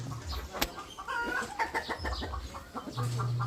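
Chickens cluck inside a chicken coop, a quick run of close, jerky clucks with a sharp knock near the start and a low hum underneath.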